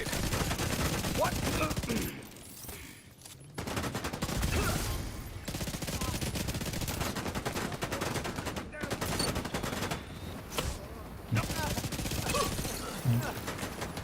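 Rapid video game gunfire rattles in dense, continuous bursts, loud and close, with brief pauses between volleys.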